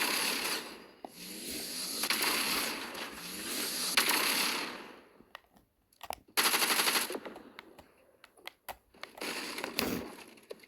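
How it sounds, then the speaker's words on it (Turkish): Machine gun fire from Fortnite comes in rapid, crackling bursts. A long stretch of fire gives way to short gaps, then more clustered volleys. It is loud and close, with no talking over it. "Benim makinalı tüfeğim varken beni alamazlar."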